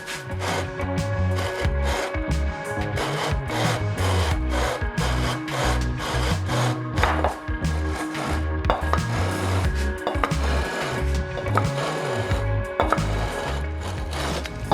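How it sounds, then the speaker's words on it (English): A sanding beam rubs back and forth over a guitar fretboard in steady, rapid scraping strokes, close and continuous, with no talking. "I'll try with the sanding beam first"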